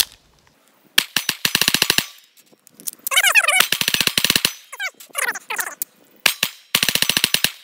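A Taurus G3C pistol fired through its last magazines in rapid strings of loud, sharp shots, with pauses between bursts. A dog whines and yelps in between the strings.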